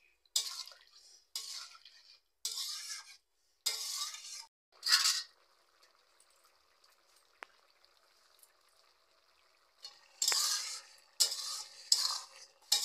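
Water splashes into a pan of vegetable curry cooking in an outdoor field setting, coming in short bursts of pouring and stirring separated by quiet gaps, with a faint steady sizzle running underneath.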